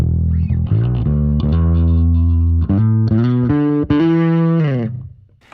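A heavily overdriven bass guitar through an Ampeg SVT amp model on a Fractal Axe-FX plays a sequence of sustained, gritty notes, loud and close, ending with a note fading out.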